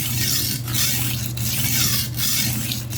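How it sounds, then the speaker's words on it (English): A dull kitchen knife is ground on a sharpener, giving repeated rasping strokes from end to end of the blade, about four passes in three seconds, close and steady, with no voices. "it's making a grinding noise all the way from one end to the other"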